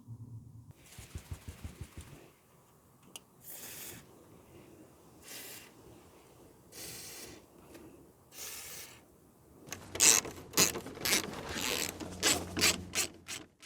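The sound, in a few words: 8mm socket removing bumper bolts on a Vauxhall Corsa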